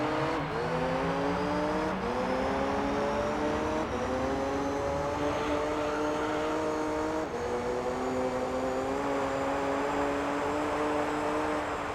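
Race car engine in Gran Turismo 3 revving at high pitch through several gear changes, a steady loud whine climbing and dropping with each shift and no talk over it.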